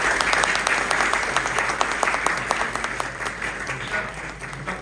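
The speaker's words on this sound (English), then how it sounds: "Okay, clapping please." Audience applause after a medical student's presentation on cardiovascular examination. Steady, moderately loud clapping from a room of people runs for about five seconds, dense and even throughout.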